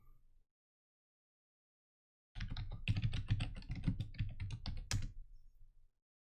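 Typing on a computer keyboard: a dense, steady burst of quick key clicks lasts a few seconds, close and fairly quiet, after a short pause, with no talking.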